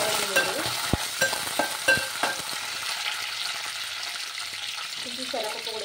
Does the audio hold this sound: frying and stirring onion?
yes